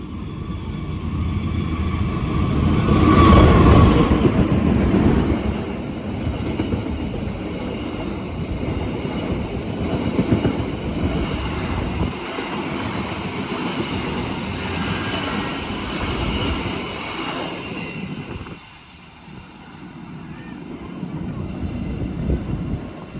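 Ranggajati passenger train rolling past in Indonesia, a steady, loud rumble of wheels and cars that holds for about twenty seconds, dips briefly, then picks back up.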